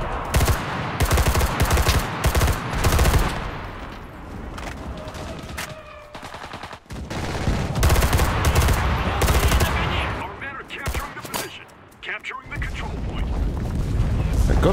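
Close, loud automatic gunfire in the Enlisted quarry battle, long rattling bursts with booming impacts, pausing briefly midway before more sustained firing resumes.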